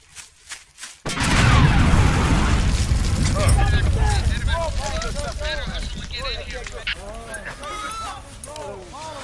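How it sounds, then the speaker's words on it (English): A booby trap explosion during the Vietnam War, a sudden loud boom after a few soft taps, followed by a long rumbling roar with a voice speaking over the decaying blast. "The booby trap blasts Brown and two of his men with shrapnel."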